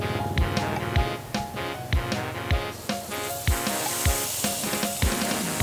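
Liver sizzles steadily on a hot grill, a continuous frying hiss close by, with regular sharp clicks and taps recurring about once a second over the sizzle.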